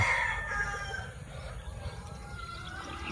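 Chickens and a rooster at a poultry farm, a rooster's crow ringing out near the start over a bed of clucking hens, fairly close and moderately loud.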